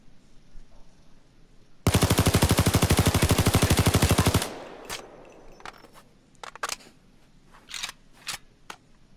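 An L85A2 assault rifle fires full-auto in the video game Payday 2, a loud, dense, rapid rattle of shots for over two seconds, followed by scattered sharp clicks and single mechanical snaps.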